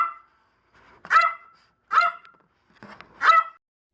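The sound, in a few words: dog barking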